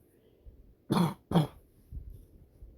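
Two short, sharp coughs in quick succession, close and fairly loud, followed by a softer throat clear in an otherwise quiet room.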